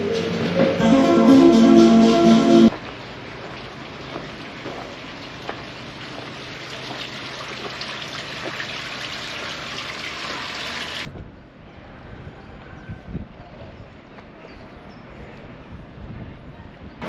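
Steady broadband rush of the river at Matlock Bath, loud and continuous, dropping to a softer, more distant flow for the last few seconds.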